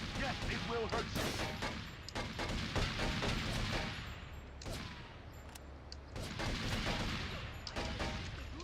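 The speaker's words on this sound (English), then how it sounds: "It's amazing how many bullets a vehicle can take in this game" Rapid gunfire from Grand Theft Auto: Vice City Stories, bullets raking a vehicle in dense, continuous bursts with a brief lull in the middle, loud and close over game effects.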